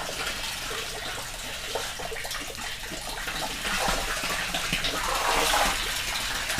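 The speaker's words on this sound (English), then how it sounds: "garden hose in here. You can see the water coming out." Water pours steadily out of a garden hose draining a fish tank, a continuous broadband gush and splash that holds at a fairly even level and swells slightly toward the end, with no talking.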